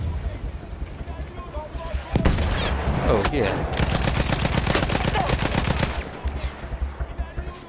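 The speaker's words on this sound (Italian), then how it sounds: "Sparo in faccia, ti sparo." Rapid gunfire from the World War I video game Battlefield 1 rattles in dense bursts, with loud shots and someone speaking briefly over the combat.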